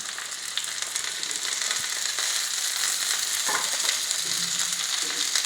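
Bitter gourd slices fry hard with browned onion in an oiled pan, a steady, loud, close sizzle with light stirring scrapes running unbroken throughout.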